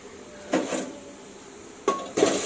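Four large chicken pieces drop into a pan of frying onion and garlic paste masala, making two short, close clattering sizzle bursts with quiet gaps between them.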